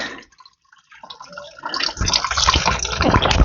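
Coolant water drains from a Toyota Tazz into a bucket, starting with a few small drips and then building into a loud, continuous gushing pour splashing close by.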